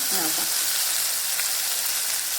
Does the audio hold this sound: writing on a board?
no